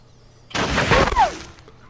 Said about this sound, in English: Someone shooting at Yes, someone's shooting at you.